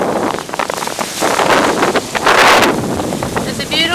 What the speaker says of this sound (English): The winds are a little gusty, higher teens, gusting into mid to upper 20s.